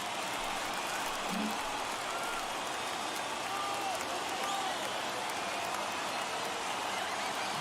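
Large baseball stadium crowd of over 39,000 on their feet during a two-strike count, a steady distant roar of cheering and applause throughout with no clear speech.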